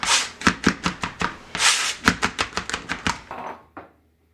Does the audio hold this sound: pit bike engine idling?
no